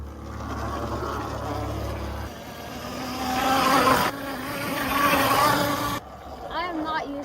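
A Tasaca T500-V58 bike is ridden one slow, easy lap and gives off a buzzing, whining motor tone that swells and fades as it passes, with voices talking over it.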